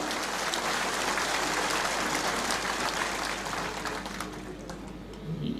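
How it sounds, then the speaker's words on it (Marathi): A crowd of party workers claps steadily to welcome Sharad Pawar at a Nationalist Congress Party induction event, a dense, sustained wash of applause that eases slightly near the end. "आपण सर्वांनी टाळ्या वाजवून पहिल्यांदा पवार साहेबांचं या ठिकाणी स्वागत करा"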